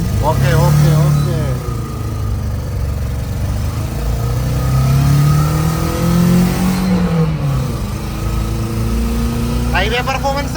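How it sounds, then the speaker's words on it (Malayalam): A Maruti Gypsy engine accelerating on a highway, loud and close, with rising and falling revving tones that climb through the gears; voices talk over it at the start and near the end. "ഹൈവേ പെർഫോമൻസ് ആണ് കേട്ടോ ഏറ്റവും കൂടുതൽ ബെറ്റർ. ഒന്നും പറയാനില്ല. കിടിലൻ പെർഫോമൻസ് സൗണ്ടാണ്."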